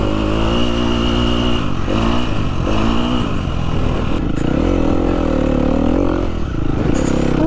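A motocross motorcycle on a sand track holds a loud, steady engine drone for the whole stretch, its pitch rising and falling as the throttle is worked, close to the rider and with no talk.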